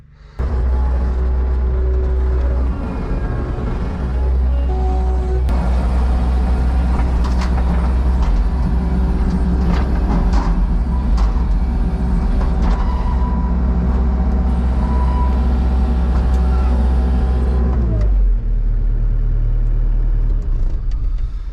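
A skid steer loader's engine runs loudly and close while the machine is loaded onto a truck, a steady low diesel rumble that rises briefly before dropping off near the end.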